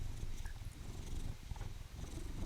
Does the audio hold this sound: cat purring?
yes